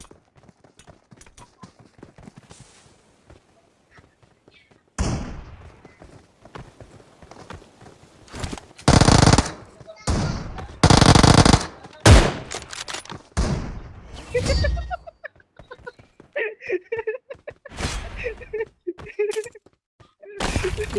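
A shooting video game fires off volleys of gunfire and headshots, heard as loud, punchy bursts of shots in clusters, with people talking excitedly over and between them.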